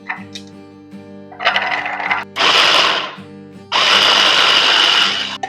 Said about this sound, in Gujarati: ફ્રેન્ડ્સ, લસણને આપણે ચોપરમાં ચોપ કરી શકીએ છીએ